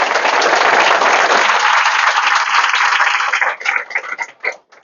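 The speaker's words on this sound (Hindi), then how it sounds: "उस पिता के नाम पे एक बार जोरदार ताली बजा दीजिए" An audience at a coaching-institute gathering claps loudly and densely, a full burst of applause that holds steady and then thins into scattered last claps before fading.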